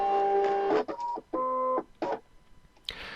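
A Brother Scan N Cut machine loads a cutting mat, giving a few short electronic beeps followed by whirring motor feed bursts, close and clear, with a quick final mechanical sound.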